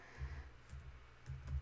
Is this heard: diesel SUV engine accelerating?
no